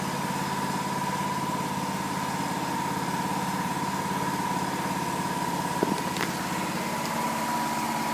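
A Hobart Champion Elite 225 welder generator's engine idles close by at a steady, even drone, with a brief clatter partway through.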